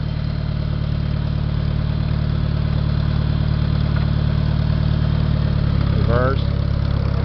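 An International 140 tractor engine idles low and steady, a loud continuous rumble close by with a brief higher mechanical whine near the end.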